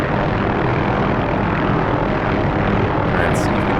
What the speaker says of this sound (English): And this is why it's so nice flying this helicopter.